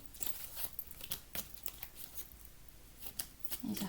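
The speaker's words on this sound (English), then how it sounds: "These are hard to shuffle because they're quite small." Small oracle cards are shuffled by hand in quick, soft, irregular riffles and slaps, close and quiet, with no speech.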